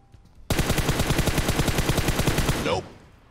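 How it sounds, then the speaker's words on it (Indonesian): A long automatic burst of gunfire in PUBG Mobile, rapid evenly spaced shots rattling loud and close for just over two seconds before cutting off into quiet. "Ya, nembak. Ya, tembak sini."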